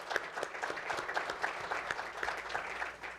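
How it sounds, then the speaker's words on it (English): An audience at an education leadership event applauds steadily, a dense and even clapping heard at moderate distance with no talk over it. "Have a round of applause."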